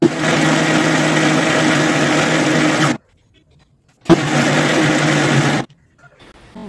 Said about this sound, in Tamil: மிக்சியில் வச்சு நல்லா ஃபைனாக, எந்த வித நார் எதுவுமே இல்லாத அளவுக்கு முடிஞ்ச அளவு நல்லா ஃபைனாக அரைச்சி எடுக்க போகிறோம்